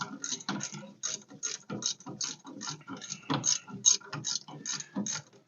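A hand ratchet tightening the upper bolt on a car's disc brake conversion, clicking in a steady rhythmic series of pawl ratchets, close and clear with no speech over it.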